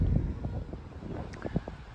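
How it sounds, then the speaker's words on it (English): Wind buffeting a microphone on a warm, breezy sandy beach at Gorleston, a low uneven rumble with gusty bursts, fairly faint. "please excuse the wind noise in the background"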